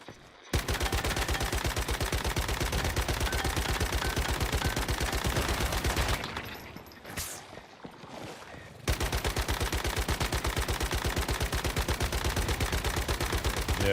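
Sustained rapid gunfire in the shooter game Once Human, a dense automatic burst running loud and close, breaking off briefly in the middle before the firing resumes just as heavily.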